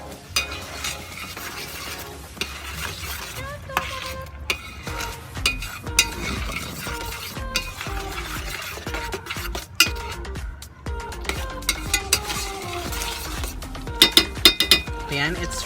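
A utensil stirs food in a pan of melted butter for a chicken and potato dish, with soft sizzling beneath frequent scraping and metallic clinks against the pan, continuous and close.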